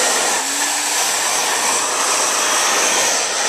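Hair dryer blowing dust out of a computer, a loud, steady, close whooshing roar that holds constant throughout.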